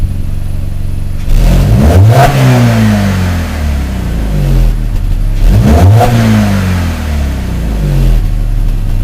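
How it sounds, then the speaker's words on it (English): A BMW E46 Touring engine, with worn valve stem seals and fresh gasket work, is revved twice in close succession, each loud throttle blip rising and falling back to a steady idle, recorded close up with no talking. "I'm gonna try to push the throttle to see if it leaves a smoke screen."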